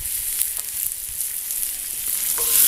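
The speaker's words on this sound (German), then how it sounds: "hier werden wir unsere klein geschnittenen Zwiebeln ein kleines bisschen glasig anbraten" Chopped onions frying in a little oil in a pan on an outdoor grill fire plate, a steady bright sizzle with soft stirring scrapes, close and continuous, no talk.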